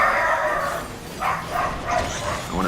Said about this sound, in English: I want to pet that dog.